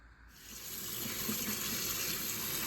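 Tap water running steadily into a sink over chicken held in a colander as it is rinsed, a close, even hiss and splash that builds in the first half-second and then holds.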